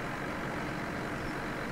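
A tractor engine at a tractor pulling event in a farming game on the Le Petit Limousin map, with a steady, dense low drone that holds at an even loudness throughout.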